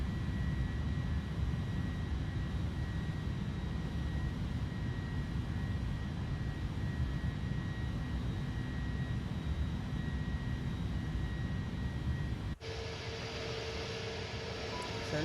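A big airliner's engines drone in a flight simulator game, a steady loud roar without a break that thins and shifts in tone near the end.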